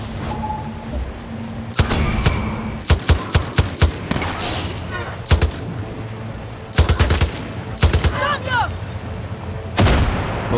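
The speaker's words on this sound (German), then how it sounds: "Okay, irgendwer ballert mit Granaten." Heavy combat in Far Cry 6: loud bursts of gunfire and blasts from a grenade launcher, with sharp reports in quick clusters. Mid-frequency voice-like sounds run between the shots.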